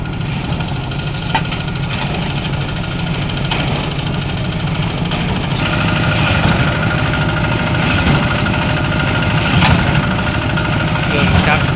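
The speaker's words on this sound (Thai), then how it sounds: "เครื่องจักรทำงาน" A machine engine idles and runs steadily in a gear-pressing workshop, a loud continuous rumbling drone with vibration and occasional clanks, close and constant throughout.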